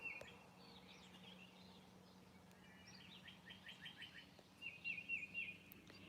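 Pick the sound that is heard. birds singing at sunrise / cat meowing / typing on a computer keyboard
birds singing at sunrise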